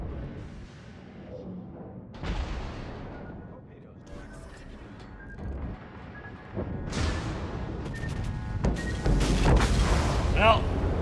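World of Warships battleship salvos from the Montana and Yamato hit as several loud, sharp booms spaced over the stretch and rising toward the end, with someone talking intermittently over the naval gunfire.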